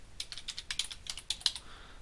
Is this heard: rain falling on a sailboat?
no